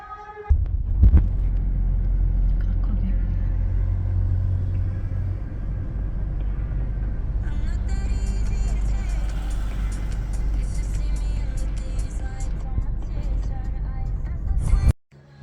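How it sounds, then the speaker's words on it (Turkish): A car in the PK XD video game starts up and drives, giving a steady low engine rumble and throbbing hum that holds for most of the span before cutting off at the end. "Hemen arabayı çalıştırıp gidelim."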